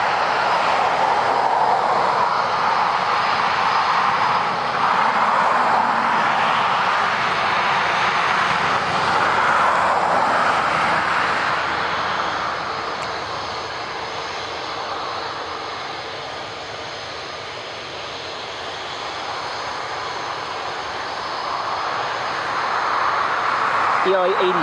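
An Airbus A321neo jet takes off from Dublin Airport, a steady broad engine roar that holds strong, dips slightly midway and swells again as it climbs away, with a person talking faintly at times.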